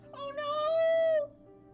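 A single cartoonish cat meow in the Fran Bow video game, rising then held steady for about a second before falling away, fairly faint over a quiet game background.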